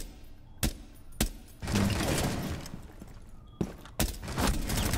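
Rainbow Six Siege gunfire comes as sharp single shots followed by longer sprays of rapid automatic fire, loud and close, with brief gaps between bursts.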